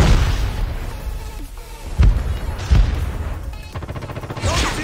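A flashbang grenade going off in Call of Duty Mobile: loud game booms and bursts over constant low rumbling battle noise, with several sharp detonations spaced apart.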